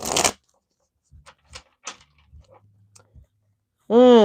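Tarot cards being shuffled by hand during a reading: a series of soft, sparse riffles and taps spread over a few seconds in a quiet room, with brief voice sounds at the start and end.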